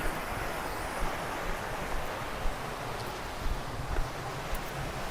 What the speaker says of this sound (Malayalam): അതാ ഇവിടെ നല്ലൊരു വെള്ളച്ചാട്ടം ഉണ്ട്